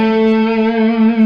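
Electric guitar with volume and tone both on full, holding a heavily bent blues riff note that rings loud and sustained with thick, saturated overtones.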